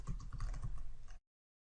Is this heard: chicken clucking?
no